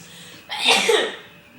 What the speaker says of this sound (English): Thank you for sneezing.